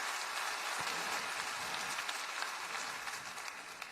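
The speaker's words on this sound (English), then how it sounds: "Yes, that does deserve a round of applause." An audience at the Orange County mayor's State of the County address breaks into applause, a dense, even patter of many hands clapping that holds for a few seconds without voices.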